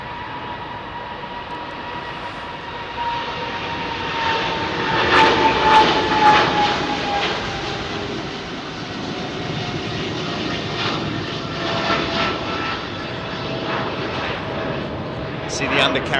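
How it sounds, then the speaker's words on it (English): A Boeing 777 departing runway 27R at London Heathrow, its engines building into a loud, rising roar that peaks midway and stays strong, with people talking excitedly over it. "it's a 777"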